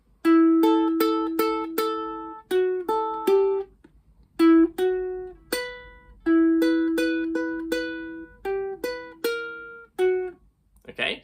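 A bright plucked ukulele melody of the Luigi's Mansion theme played solo at a steady, moderate pace, notes ringing briefly, with a few short pauses between phrases.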